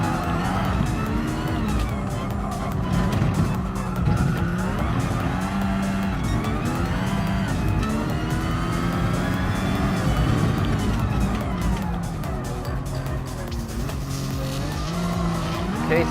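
Race car engine revving and tires squealing in Gran Turismo Sport during an F1500 championship event, a loud continuous engine drone with pitch rising and falling through shifts and corners, a voice talking over it.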